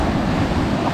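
Surf breaks on a beach near Rottnest Island, a dense steady wash of waves with wind rumble across the microphone, loud and unbroken with no voices.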